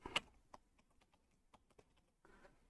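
Quick, irregular clicks of a computer keyboard as someone types during a Windows disk partition fix, a handful of light taps spread over a few seconds, close and fairly quiet with no talk.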